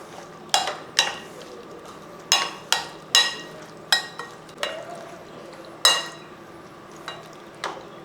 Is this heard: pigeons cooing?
no